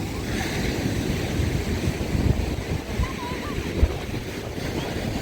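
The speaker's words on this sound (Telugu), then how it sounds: "ఎంత పెద్ద అలలు వస్తున్నాయి చూడండి." Big ocean waves roll onto the beach at Mahabalipuram, a steady roar of surf with wind buffeting the microphone throughout and a slightly louder surge of breaking water partway through.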